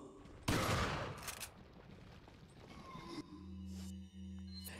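Loud shotgun blasts in Resident Evil 4, a sharp burst followed by a second shot and echoing gunfire, then a low droning game background with brief voice-like sounds.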